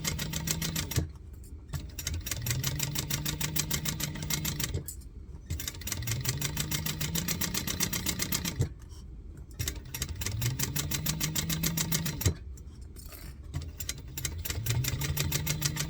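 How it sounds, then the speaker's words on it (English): A sewing machine top-stitches around the edge of a bucket hat in repeated runs of rapid, even stitching, each burst a few seconds long and separated by short pauses. "I just top stitch around the edge here"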